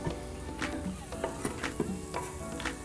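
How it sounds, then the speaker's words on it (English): Minced fresh garlic and jalapeño sauté inside an electric pressure cooker, a soft continuous sizzle with repeated light scraping and tapping of a spoon stirring, fairly quiet and without voices. "We're gonna saute for about 7 minutes."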